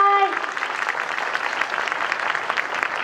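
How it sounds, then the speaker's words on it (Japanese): At the Toyama Station tram north-south connection departure ceremony, a voice trails off briefly before an audience breaks into bright, even clapping from many hands that continues at steady volume to the end. "今一度大きな拍手をお送りください。"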